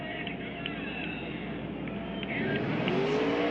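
NASCAR West Series stock cars at Thunder Hill roar on the restart with a steady, far-off engine drone that swells toward the end, while a commentator talks over it.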